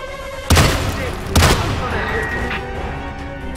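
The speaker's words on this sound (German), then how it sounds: "weil die da unten rumballern wie blöd" Enemy gunfire in the game Hitman (2016), two loud heavy shots a second apart over a constant background hum, with a faint tone afterward.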